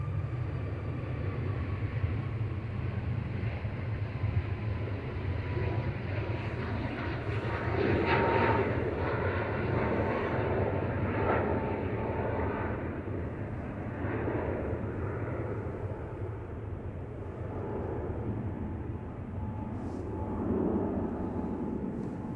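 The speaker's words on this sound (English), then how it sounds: "This is TUI departing to Alicante with flight 2620 on Max 8." TUI Boeing 737 Max 8 jet departing Manchester Airport for Alicante, a steady broadband engine roar held loud and constant throughout, with a faint whining tone running through it.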